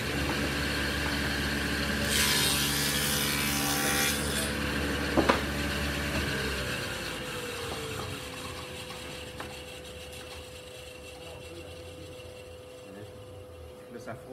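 A wooden tongue scrapes inside its groove while a bastard tongue-and-groove joint is being fitted. The close, grainy rubbing runs over a low steady hum, with a few sharp knocks.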